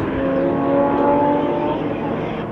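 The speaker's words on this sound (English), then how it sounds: "as we see Trevor Long peeling into pit lane. The roof surgeon BMW going into the pit box" A BMW M Performance race car slows and peels into the pit lane at Phakisa, its engine droning steadily and loudly with a smooth, sustained tone.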